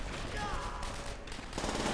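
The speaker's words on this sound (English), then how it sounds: "firing bursts of machine guns" In Call of Duty: World at War, close-quarters combat in an asylum brings short bursts of machine gun fire, a dense, continuous rattle filling the whole clip.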